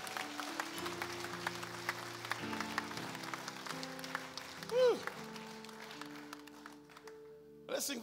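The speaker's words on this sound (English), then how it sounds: "clap if you're clapping" A church congregation claps steadily along to sustained keyboard or organ chords, the dense clapping filling the background throughout under a loud musical bed.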